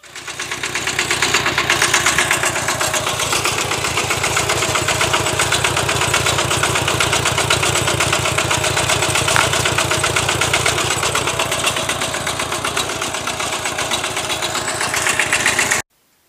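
A walk-behind tractor engine runs steadily while pulling a trailer down from a vegetable garden, its rapid single-cylinder thumping loud and close for the whole stretch before cutting off abruptly at the end.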